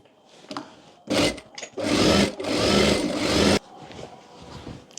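A sewing machine stitches trouser fabric for a ladies' palazzo pant in loud, steady bursts, with a short run followed by a longer sustained stretch, then quieter handling sounds of the cloth.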